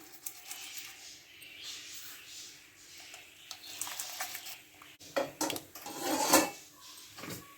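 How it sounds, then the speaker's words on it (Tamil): Mustard seeds hit hot oil for tomato pickle, giving scattered crackles and pops that grow denser and louder toward the end over a faint sizzle, close up with no talking. "கடுகு நல்லா பொரிஞ்சிருச்சு"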